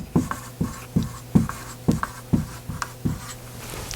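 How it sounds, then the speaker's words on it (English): Marker strokes on a board, close and fairly loud: about ten short, evenly spaced scratchy squeaks in a steady rhythm, with no voice over them. "I'll just write those 2 terms down so you have them"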